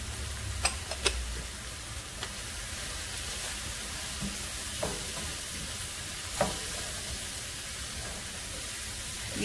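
Flour cooking in a pan for chicken à la king, a steady soft sizzle with occasional scraping stirs and light taps of a utensil against the pan, close and continuous.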